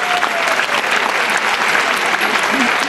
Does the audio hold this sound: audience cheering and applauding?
yes